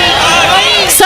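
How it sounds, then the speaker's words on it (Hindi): A mushaira audience at an Urdu poetry gathering roars and cheers loudly, a dense, close wall of shouting voices that fills the whole moment. "ऐसे नहीं एक बार जोरदार तालियों से मुझे बताए"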